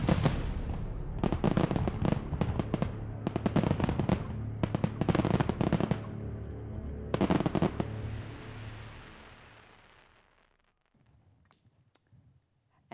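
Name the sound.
fireworks show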